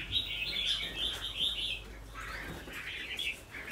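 A crested bulbul sings outdoors in bright, repeated chirping phrases. The calls come in bursts with short gaps and stand out clearly over faint background noise.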